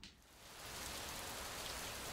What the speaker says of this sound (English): You hear the rain outside?